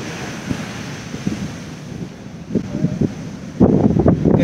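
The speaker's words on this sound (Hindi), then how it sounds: "और बगल में ही आपको दिख जाएगा समंदर" Sea waves wash onto the shore beside a submarine museum in India, coming as soft surges under steady wind noise on the microphone and swelling louder near the end.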